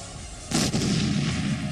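A sudden heavy boom from Indian artillery and rocket launcher fire on Pakistani army posts near the Line of Control, followed by a sustained rumbling roar.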